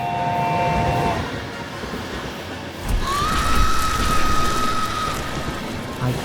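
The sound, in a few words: night train passing, horror animation sound effect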